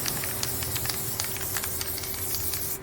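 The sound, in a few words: spraying on infantry helmet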